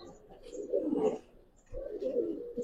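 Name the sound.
Giribaz pigeon cooing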